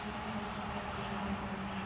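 A steady, dense rumble from a Pennsylvania Railroad train rolling across a bridge in Richmond, Indiana, constant and moderately loud with no pauses or voices.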